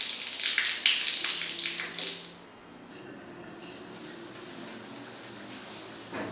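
Warm water runs steadily from a bathroom tap or shower onto a silver and gold mesh loofah, a close, continuous splashing rush that briefly drops away before resuming.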